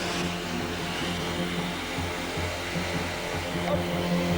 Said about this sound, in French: Et je le prouve avec mon aspirateur que j'ai exprès monté à l'envers.